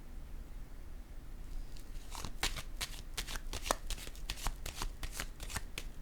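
Oracle cards being shuffled, handled and laid down on a table in a reading about marriage, a run of quick crisp riffling snaps close by after a quiet start, with no talking.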